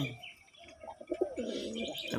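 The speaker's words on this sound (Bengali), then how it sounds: "অসাধারণ এক জোড়া গোলা কবুতর নটটা খুব দেখেন কীভাবে ডাকাডাকি করতেছে" A pair of pigeons coos softly at close range, low throaty calls rising and falling in a brief burst against faint background noise.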